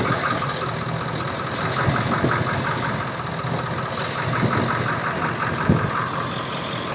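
A Ford F350 with a 7.3 diesel idles roughly with its number 1 and number 3 injectors unplugged, a loud close clattering rumble with uneven knocking pulses and a few sharper thumps.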